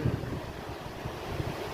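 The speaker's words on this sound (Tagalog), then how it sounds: "naririnig nyo ba yung alon?" Ocean waves wash continuously at a seaside spot, a faint, steady roar of surf mixed with wind buffeting the microphone, with no voices.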